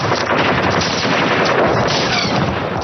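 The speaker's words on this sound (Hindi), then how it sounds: "इस लाइट मशीन गन से निकली गोलियां सूबेदार बिशन सिंह के सीने में पैबस्त हो गईं" A light machine gun firing in a continuous loud, dense burst of rapid shots, close and unbroken throughout with no talk.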